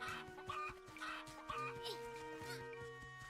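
A cucco chicken clucks in short bursts in Zelda: Echoes of Wisdom, mixed into ongoing game music with a held musical tone beneath.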